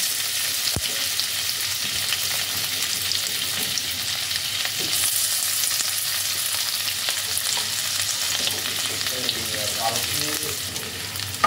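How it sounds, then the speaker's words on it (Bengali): Chopped ginger and garlic fry in oil left over from frying paneer for chilli paneer, giving a dense, steady sizzle close by for the whole stretch, with a few scraping stirs and faint clicks. "আদা রসুন কুচিটাকে তেলের মধ্যে হালকা করে ফ্রাই করে নিচ্ছি"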